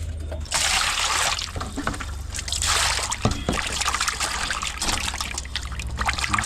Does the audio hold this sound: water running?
yes